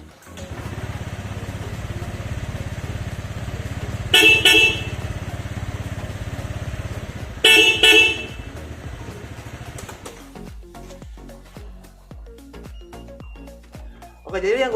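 A Yamaha R15 V3 motorcycle sounds two short, loud horn blasts a few seconds apart over its steady running engine, which then fades to quieter, intermittent rumbling.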